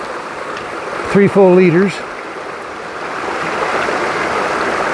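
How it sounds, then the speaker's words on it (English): A flowing stream on the Appalachian Trail, a steady broadband rush of running water that continues throughout and grows slightly fuller toward the end, heard close with a brief spoken remark over it. "here is the stream where I need to get some water"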